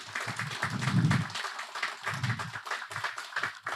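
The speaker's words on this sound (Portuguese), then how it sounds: "Gostaria de uma salva de palmas." A small audience claps for Professor José Carlos Garcia, the applause arriving in uneven bursts of individual claps that swell and ebb, moderately close and without talk.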